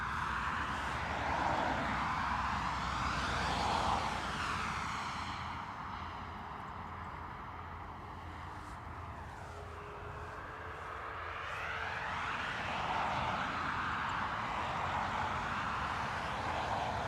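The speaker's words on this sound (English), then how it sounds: "Ryanair off to Porto" A Ryanair airliner departing Dublin Airport for Porto, a distant engine roar that swells, fades in the middle, then rises again, with a shifting whine over the rumble and no voices.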